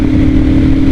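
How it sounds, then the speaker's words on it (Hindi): The 650 cc engine of a Royal Enfield Super Meteor 650 drones loudly and steadily under acceleration on the road, a continuous close-up engine roar with wind noise and no voices. "This is the power of the 650 CC engine."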